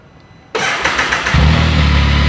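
Can-Am Spyder F3-S 2022 three-wheeler with a 1330 cc engine cranking on the starter, catching and settling into a loud, deep, bassy idle, heard close with no talk.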